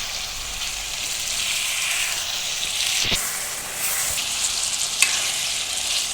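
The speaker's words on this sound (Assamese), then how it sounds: "ফ্ৰাই হৈ আছে।" Chicken curry fries in a pan with a steady, even sizzle and hiss, close and moderately loud, with a few faint stirring clicks and scrapes.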